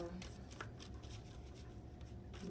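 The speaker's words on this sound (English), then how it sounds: "Gonna shuffle this deck a little bit." Soft riffling and flicking of a tarot card deck being shuffled by hand, a steady papery patter close by, with a low hum underneath.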